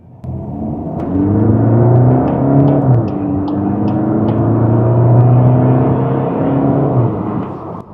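A 2023 Skoda Octavia Combi family estate accelerates hard in a sprint, its engine note rising steadily through a gear change with a brief dip. The car is heard loud and close, with no talking over it.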